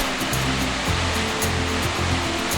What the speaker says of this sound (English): the great 126-foot waterfall we today call Lower Calf Creek Falls